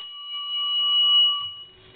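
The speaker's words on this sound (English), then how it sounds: "The operator could hear the one ring for a nickel" A single bell in a chrome three-slot payphone rings once for a nickel, a clear sustained metallic tone that fades out over about two seconds, alone and close.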